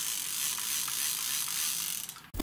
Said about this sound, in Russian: Вы можете посмотреть, как я довольно-таки быстро выматываю.